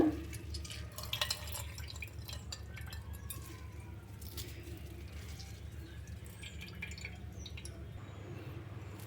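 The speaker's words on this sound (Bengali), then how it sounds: "কাঁঠালের রসটাকে এভাবে আমি টিপে বের করে নেব" Ripe jackfruit squeezed by hand to draw out its juice, with faint scattered drips and small liquid clinks over a low steady background hum, quiet and close.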